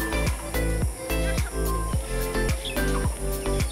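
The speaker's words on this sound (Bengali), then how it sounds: "ঝিঝি পোকার ডাক আর পাখির ডাক শুনতে পাচ্ছেন?" Outdoors among water and rocks, crickets keep up a steady high chirping while birds call in repeated short bursts, fairly close and continuous with no talking.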